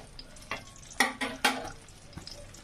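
Chopped onion and a small amount of chicken are stirred in a frying pan, with several distinct scraping strokes over a soft sizzle, close and moderately loud, no talking.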